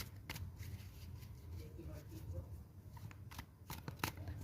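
Tarot cards being drawn and shuffled by hand during a reading, a few soft papery flicks and snaps over a steady low room hum, fairly faint and close.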